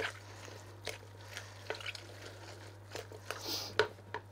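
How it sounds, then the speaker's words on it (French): Sliced onions and courgettes are stirred together in a cooking pot, giving soft, irregular scraping and squishing strokes with faint wet drips. The strokes are quiet and close, over a steady low hum. "je mélange bien les oignons et les courgettes ensemble"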